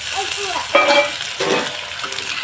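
Garlic paste with a spoonful of flour sizzles and spits in a hot pan for an egg dish, a steady broadband frying hiss with a sharp burst as it hits the oil, continuing close and fairly loud.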